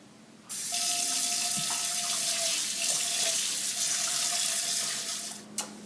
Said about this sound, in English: take it over to your sink and rinse it out with some warm water